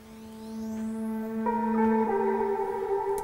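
A reversed guitar note with automated bit crushing swells gently, shifts upward in a couple of stepped changes and carries an echoing, reverberant tail, alone and fairly quiet.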